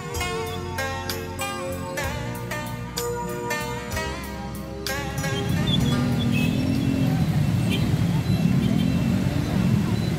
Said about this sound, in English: The traffic in this part of Saigon is amazing.